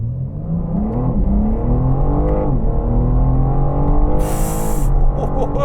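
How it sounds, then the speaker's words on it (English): A BMW M4 Competition engine revs inside the cabin, a steady loud droning with rising and falling pitch sweeps and a brief high electronic chime near the end. "Now I'm revving it in car, that sound does sound ever so slightly synthesized."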